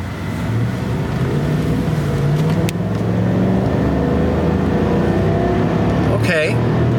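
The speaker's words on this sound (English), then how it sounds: "Let's give it a little bit of mild acceleration." A Chevrolet two-wheel-drive truck with the EcoTec3 5.3L V8 accelerates mildly, a steady low engine drone under continuous cabin road noise, with a brief whoosh near the end.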